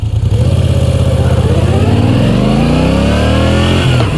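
A 2016 Moto Guzzi V9 Bobber motorcycle engine pulls hard under acceleration, its loud, close throbbing note rising steadily in pitch for about four seconds before a brief dip near the end, with no talking.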